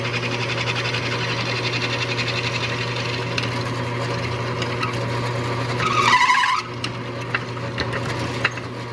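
Power drill with a 5/16 bit boring out a rivet on a Mopar A-body hood hinge, a steady whirring drone with a brief higher grinding squeal near the end as the bit bites through.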